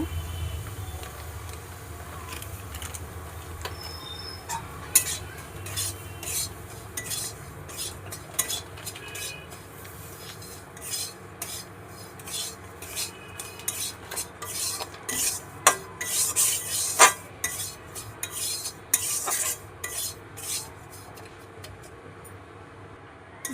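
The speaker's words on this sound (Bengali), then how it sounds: "প্রথমে কড়াইতে ঘি দিয়ে দিলাম, দিয়ে এখন সুজিগুলো দিয়ে দিব।" Semolina roasting in ghee in a wok, stirred with a metal utensil that scrapes and clinks steadily against the pan, with sharper knocks toward the end over a soft continuous hiss.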